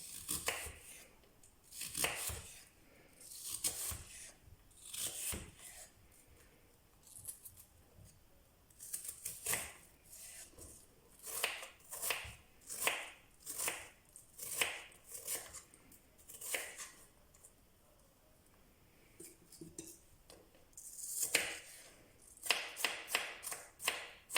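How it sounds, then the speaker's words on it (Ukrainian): A knife chops peeled banana, pear and apple into small cubes on a board, crisp close taps in quick bursts separated by short pauses, continuing steadily with no voices. "я нарізатиму дрібненькими кубиками"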